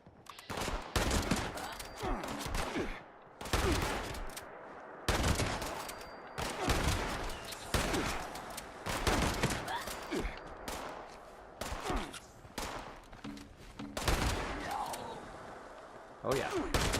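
Gunfire in Fallout 76 bursts out in repeated loud volleys, sharp rapid shots clustered into bursts separated by brief lulls, echoing heavily and dominating the scene with no talk over it.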